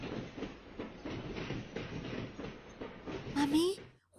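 A train runs with a rhythmic clickety-clack of wheels over the rails, close and steady, and a brief rising squeal near the end.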